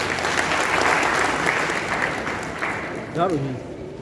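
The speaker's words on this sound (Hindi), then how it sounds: "बहुत ही अच्छा, बच्चे के लिए जोरदार तालियां होनी चाहिए।" Loud, dense clapping from a group at a tablet distribution event fills the room, gradually thinning out, with a voice beginning to speak in Hindi near the end.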